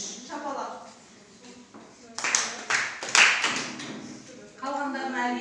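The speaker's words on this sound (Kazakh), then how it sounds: "Болған топ 3 шапалақ." A group of students in a ninth-grade geography lesson claps together in a few short, sharp bursts, set between stretches of nearby talk.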